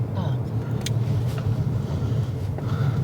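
A car hums along a mountain road near Budva, Montenegro, its steady low engine and tire rumble filling the cabin while people talk over it.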